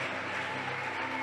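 A church congregation applauds, a steady wash of many hands clapping together throughout, moderately distant and without pauses.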